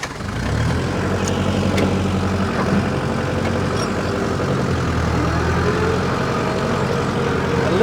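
A tractor called Old Blue runs at a steady idle close by, a continuous low engine rumble with no breaks while it is lined up with a trailer for loading.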